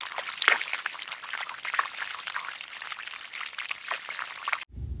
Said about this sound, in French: on a fini avec une bonne petite douche